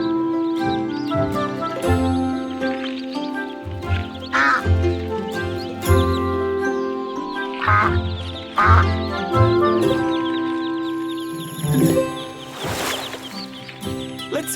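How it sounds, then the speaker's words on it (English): Mallard ducklings and their mother quack repeatedly over a dense, steady musical background, the calls coming in short bursts scattered throughout. "It's a brood of Mallard ducklings, out for a stroll with their mum."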